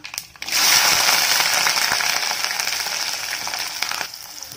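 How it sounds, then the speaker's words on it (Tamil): Garlic sizzles hard in hot oil for a country borage kuzhambu, a loud, dense crackle that bursts in after a brief quiet and holds steadily before easing off near the end. "பூண்டு நல்லா எண்ணெயில் நல்லா வதங்கட்டும்."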